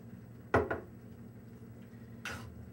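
Utensil scraping and clinking in a pot as cilantro is stirred into pasta sauce, two quick close stirs followed by a fainter one after a pause.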